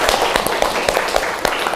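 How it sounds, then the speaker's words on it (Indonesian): A classroom of students claps together during an Indonesian school lesson, a dense burst of brisk, close hand claps with sharp scattered slaps and no talking over it. "Beri tepuk tangan."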